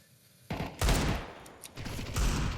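Rapid bursts of automatic gunfire, including Mac-10 submachine guns, rattle through a Counter-Strike match retake, starting abruptly and continuing in dense overlapping volleys that swell and fade.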